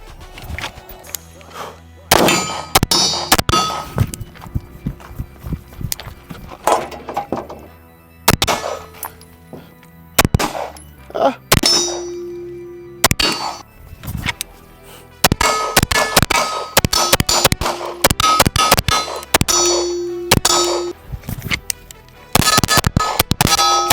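Rapid strings of sharp gunshots from a Bul Armory Tac Pro 5-inch DS 1911 pistol, loud and close, fired in quick bursts with brief pauses between volleys and a metallic ring after some shots.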